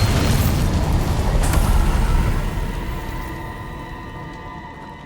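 A Bombarda blast spell in the Hogwarts Legacy video game, a loud deep rumbling boom that hits hard at once and then slowly decays with a lingering tonal hum.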